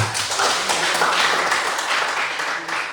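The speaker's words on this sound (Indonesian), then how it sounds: "Oke, tepuk tangan semua." Applause from a group gathered in a classroom or meeting, steady dense clapping that holds at an even level for about three seconds and fades slightly at the end.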